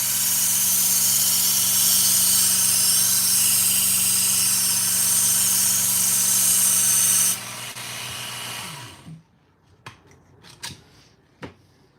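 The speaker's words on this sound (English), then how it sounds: "I'm sharpening on my work sharp. This machine is a work sharp. Kin Onion edition with grinding attachment." Work Sharp Ken Onion knife sharpener with its grinding attachment running steadily with a belt whir, then winding down and stopping, followed by a few light clicks and taps in the quiet.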